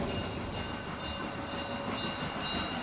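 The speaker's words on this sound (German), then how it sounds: "Seit 1886 rollen die schmalspurigen Züge der Bäderbahn hier am Haus Gottesfrieden vorbei" A narrow-gauge Bäderbahn train of the Molli line rolls past Haus Gottesfrieden across Alexandrinenplatz in Bad Doberan, a steady, fairly faint rumble and rattle of wheels with no voices.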